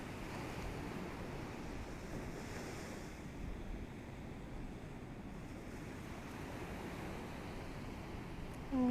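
Ocean surf rolls steadily onto a beach, a soft continuous wash of breaking waves with some wind noise and no voices.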